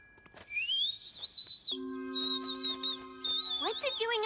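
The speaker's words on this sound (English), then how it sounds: "There! A bird!" A bird calls at night in a cartoon, a series of bright whistled chirps rising and falling, repeated several times against a quiet background with a faint steady tone underneath.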